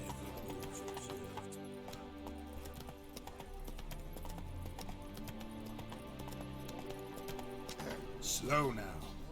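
Horse hooves clip-clop steadily in The Witcher 3, a continuous trotting rhythm at moderate level beneath game music and character voices.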